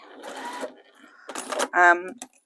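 A domestic sewing machine stitches binding onto a quilted hexi mat in short bursts of rapid mechanical whirring, close and clear, with someone speaking between the runs.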